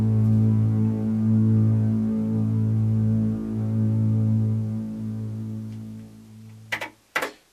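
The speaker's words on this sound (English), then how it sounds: "That's the contrabass sound." A synthesized contrabass string patch from a keyboard plays a low, steady sustained drone with slight swells, then fades, followed by a couple of brief clicks.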